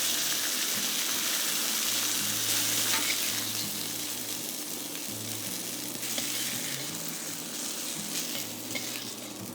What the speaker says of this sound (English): Add in more oil each time you fry, as the flour tends to absorb a bit of oil.